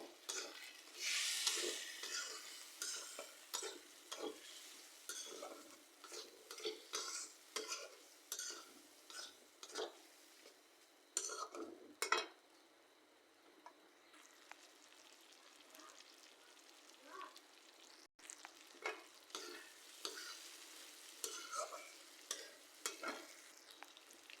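Prawns are stir-fried with turmeric, chilli powder and salt in a pan. A spatula scrapes and taps in a steady, repeated rhythm over a quiet sizzle for a long stretch, with a brief lull midway. No one talks.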